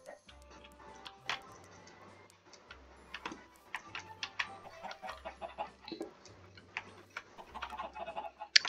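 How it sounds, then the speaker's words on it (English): Minecraft chickens cluck in short, sparse clicks and pops over a low repeating background hum, with no one talking. "Chickens."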